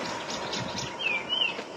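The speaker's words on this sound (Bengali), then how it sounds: "হ্যাঁ, পাখিগুলো ডাকতে শুরু করেছে।" Birds call in the early morning beside a railway line, with a couple of thin, high whistling chirps standing out over a soft, steady background hush.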